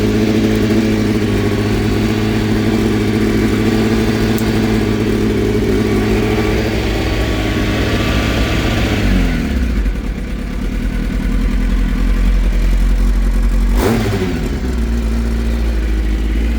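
An old Kawasaki ZX9R motorcycle that had sat unused for a year runs at a steady, loud idle, its engine note dipping briefly twice as the revs change, close by with no talking.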